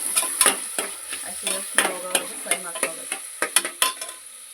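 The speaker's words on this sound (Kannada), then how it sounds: "ಈರುಳ್ಳಿ ಹಾಕ್ಕೊಳ್ತೀನಿ ಈರುಳ್ಳಿ ಚೆನ್ನಾಗಿ ಫ್ರೈ ಮಾಡ್ಕೊಂಡು" Onions fry in a pan while being stirred, with rhythmic scraping strokes of a utensil repeating over a constant close sizzle.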